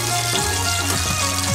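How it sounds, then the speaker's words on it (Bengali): Eggplant slices fry in oil in a wok with a steady, close hiss of bubbling, while a low, wavering hum runs underneath. "এই একই তেলে আর যে বেগুনগুলো আছে সেই বেগুনগুলোকে ভেজে নেব"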